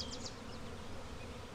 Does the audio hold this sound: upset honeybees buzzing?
yes